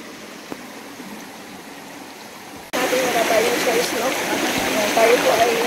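River water rushes over stones during a wading crossing. A quiet stretch gives way abruptly to loud, steady, close flowing and splashing that continues to the end.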